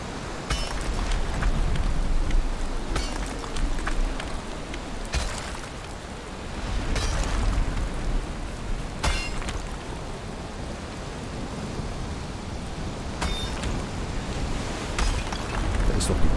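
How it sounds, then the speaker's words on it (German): Steady rainfall in Valheim pours down as a continuous wash of hiss and patter, with a few sharper bursts of heavier drops now and then. "Da regnet es doch mal."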